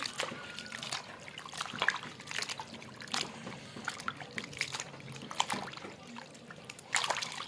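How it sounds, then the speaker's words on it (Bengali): Raw beef pieces are rinsed and rubbed clean with water, producing quiet, close trickling, dribbling and light splashing in irregular bursts. "গরুর মাংসগুলো এখন ধুয়ে নিচ্ছি সাথে পানি দিয়ে ভালো করে পরিষ্কার করে ধুয়ে নিব"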